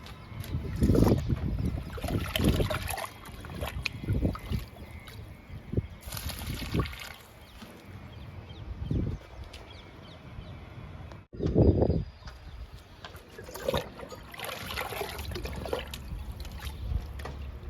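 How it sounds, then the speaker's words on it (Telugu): Liquid fertilizer poured onto a jasmine plant in a garden, heard as soft, close trickling and splashing in several short bursts with pauses between pours. "విరజాజి మొక్కకి లిక్విడ్ ఇస్తున్నాను."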